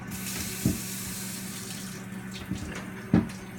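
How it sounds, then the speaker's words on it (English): Water runs steadily while a wheatgrass tray soaks, a soft continuous trickle with a few louder splashes and drips standing out. "Got a little bit of water coming through."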